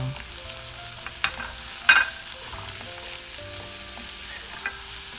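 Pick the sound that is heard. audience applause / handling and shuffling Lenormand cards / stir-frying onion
stir-frying onion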